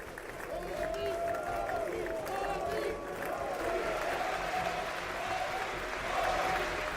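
Sustained applause from a large audience fills the US Congress chamber as Prime Minister Modi enters, a steady dense wash of clapping heard at a distance with no voices standing out.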